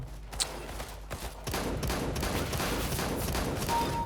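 Rapid automatic gunfire rattles in a CS:GO match, starting with scattered shots and then building into a dense, loud, continuous fusillade.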